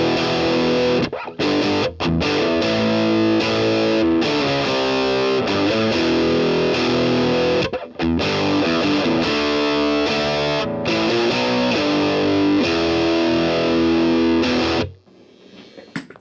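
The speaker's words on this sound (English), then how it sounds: "First, the DS-1." Electric guitar played through a Boss DS-1 distortion pedal, loud sustained distorted chords and riffs with a few brief pauses, ringing continuously before cutting off near the end, no talking.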